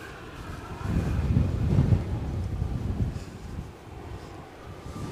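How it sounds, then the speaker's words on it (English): Strong wind buffets the microphone at Edinburgh Airport as an aircraft lands, a steady roaring gust that swells and then eases, with a low rumble beneath. "the wind dropped quite a bit as this aircraft landed"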